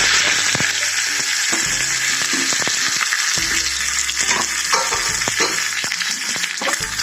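Curry leaves fry in hot oil for kadala curry: a loud, continuous sizzle and crackle with scattered sharp pops and stirring clatter, close up and without talk.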